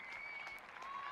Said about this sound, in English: round of applause from everyone around the ground